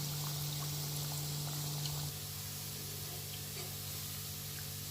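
Wheat biscuits frying in hot oil give a steady, soft sizzling hiss with a low hum underneath, slightly quieter after the first two seconds, heard alone without talk.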